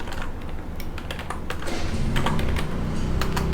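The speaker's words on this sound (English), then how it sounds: "And here we can type like method" Rapid, close keystrokes on a computer keyboard as code is typed, a dense run of clicks that grows slightly busier toward the end.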